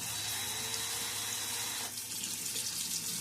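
Tap water runs steadily into a sink to soak a shaving brush, a continuous bright hiss and splash. Partway through, the flow shifts slightly as the brush is moved under the stream.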